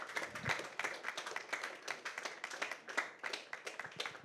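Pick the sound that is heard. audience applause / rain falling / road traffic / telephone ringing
audience applause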